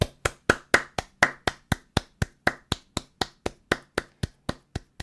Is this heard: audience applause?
yes